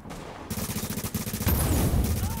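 Rapid automatic gunfire in the shooter The Division, a dense rattling burst of closely spaced shots that grows louder and heavier midway, close and without talk.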